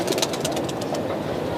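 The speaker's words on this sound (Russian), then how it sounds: "Смотрите, сейчас вы можете видеть всех наших голубей." Pigeons in a Cairo neighbourhood where many residents keep flocks, with soft repeated cooing and faint flapping close by over a steady background hum.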